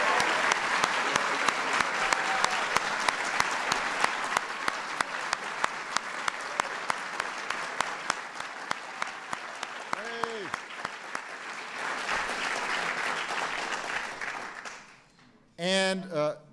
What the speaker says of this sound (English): So let's give Brina a big round of applause.